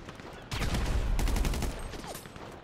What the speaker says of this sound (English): I'm gonna use the machine gun.